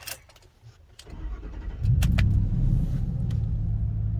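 A Ford F150 pickup fitted with a homemade cold air intake cranks briefly and then fires up, settling into a loud, deep idle rumble, with a few clicks and no talking.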